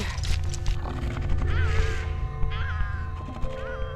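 Seabirds in Antarctica calling harshly as they swoop low overhead, several raucous cries in quick succession over a dense background of chattering colony noise and wind.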